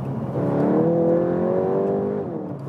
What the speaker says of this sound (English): in the Nürburgring mode we also have a special exhaust note, of course. Let's shift down.